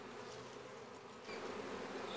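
A steady buzzing of many honey bee foragers coming and going at a hive, a dense humming drone with individual insects passing close to the microphone.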